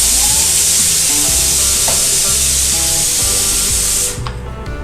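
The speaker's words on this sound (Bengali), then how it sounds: "এবার নাড়াচাড়া করতে থাকবো।" Pea kochuri filling (kochuri stuffing of peas) frying and being stirred in a pan: a steady, loud sizzle with scraping strokes of the spoon, cutting off sharply near the end.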